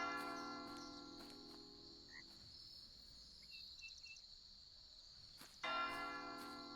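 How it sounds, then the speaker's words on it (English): Faint bell tones ring in EverCraft Online, sounding over a quiet bed of insect-like chirping ambience, with a brighter ringing swell near the end. "You hear that bell?"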